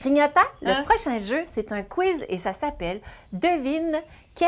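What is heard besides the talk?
No everyday noises stand out.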